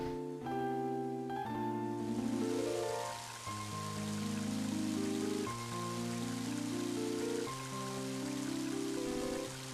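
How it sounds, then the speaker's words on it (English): Rain starting to pour in the video game Mother 3: a hissing wash of rainfall swells in and persists under sustained, stepping synthesized game music. "And now it's starting to rain."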